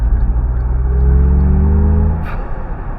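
A 2025 MG Cyberster all-wheel-drive electric roadster accelerating hard in sport mode, heard from inside as a loud, steady low road-and-tyre rumble with a faint rising electric whine, easing slightly near the end.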